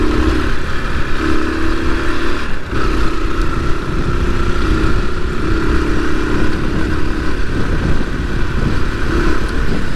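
A Husqvarna two-stroke motorcycle engine drones steadily up close, holding a buzzing rev with slight pitch shifts and a brief dip, loud and continuous with no talk.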